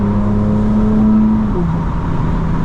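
Steady engine and exhaust drone of a BMW G82 M4 with active sound design switched off, heard from inside the cabin: a loud continuous hum under load that dips in pitch around halfway through as the revs shift.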